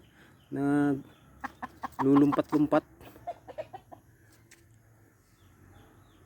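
Chickens cluck and call loudly in a couple of short bursts, with a person talking nearby between and after the calls.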